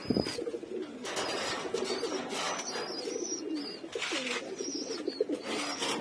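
Pigeons, including young birds recently separated from their parents, coo in repeated low throaty phrases close by, with fluttering wings and rustling between calls and faint chirps above.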